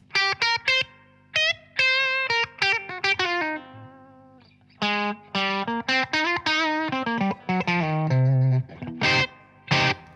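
Slightly overdriven electric guitar with a touch of reverb plays a series of picked phrases and held notes, with brief pauses, the notes ringing out a little longer in a quiet room without talking.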